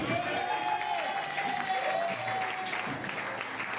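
An audience applauding together inside a church during a sermon: a steady, sustained wash of clapping with a few faint cheers and voices mixed in, holding at an even level throughout.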